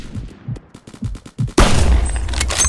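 In the video game Phantom Forces, rapid gunfire pops sound in a steady rhythm, and then a loud booming blast from an M107 sniper rifle rings out and sustains.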